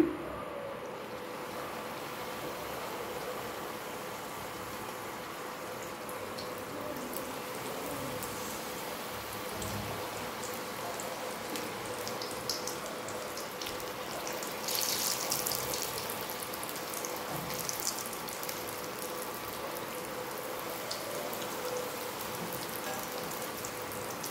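Onion samosas fry in hot oil, a continuous soft crackling and bubbling sizzle at moderate level with small pops throughout, no voices.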